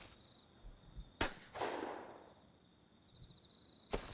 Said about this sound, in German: Hier hat jemand geschossen